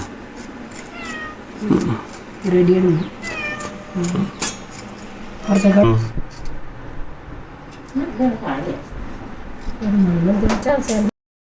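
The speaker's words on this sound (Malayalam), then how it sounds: "പാണ്ടം പൂച്ച വന്ന് ഇവിടെ ഇരിപ്പുണ്ട് കേട്ടോ" A cat meows repeatedly in short, close, insistent calls spread across the clip, with some background clatter.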